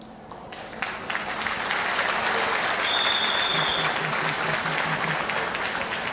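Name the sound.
audience clapping loudly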